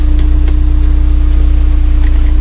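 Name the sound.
car engine revving in garage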